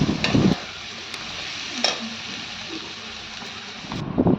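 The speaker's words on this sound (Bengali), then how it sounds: "কাশ্মীরি লঙ্কা আর মিট মশলা দিয়ে ভালো করে নাড়াচাড়া করে নিতে হবে" Mutton being stirred in a pot with Kashmiri chili and meat masala, a close, steady sizzle with scraping stir strokes that are louder at the beginning and end.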